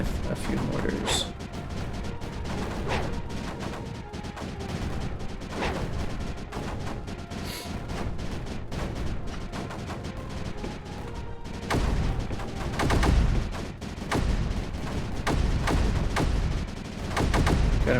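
Mortars in Creeper World 4 fire over and over in a steady, irregular stream of sharp thumps and blasts, with a heavier cluster of impacts toward the end.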